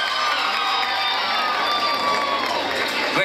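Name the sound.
audience applauding and cheering for a singer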